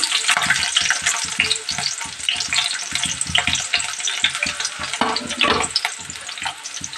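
Sliced onions and chopped green chillies fry loudly in a pan for an aloo chicken kurma, a dense close sizzle with rapid rhythmic stirring and scraping throughout, no speech.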